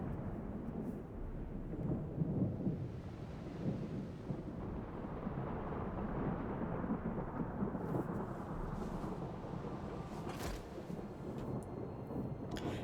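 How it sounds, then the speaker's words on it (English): Thunder rumbles in a stormy Total War: Warhammer 2 battle, a long rolling low growl that swells and fades with a few sharper cracks and a rain-like wash, with no voices. "it's so loud, that crackling of thunder in the game"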